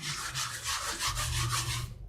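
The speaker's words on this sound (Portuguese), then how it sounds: "Passa uma buchinha assim, ó." A sponge scrubs back and forth over a freshly sanded terrazzo-style vase, producing brisk, close rubbing strokes in a steady rhythm with no talking.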